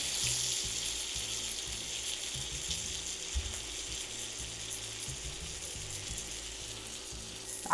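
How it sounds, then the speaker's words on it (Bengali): Egg and eggplant frying together in a pan give a steady, dense sizzle that runs the whole length, with a faint repeating low clatter underneath and no voices. "এই যে একটু ঘুরে ঘুরে এইভাবে ভেজে নেবেন"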